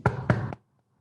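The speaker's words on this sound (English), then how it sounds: "It's her husband, it's Janine's husband, knocking on the door." Two or three firm knocks on a door in quick succession, close and clear, followed by silence.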